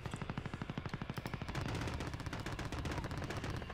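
Rapid automatic gunfire in the video game Call of Duty Modern Warfare, loud and close: an evenly paced burst of shots that runs into a continuous dense clatter of fire, with no talk over it.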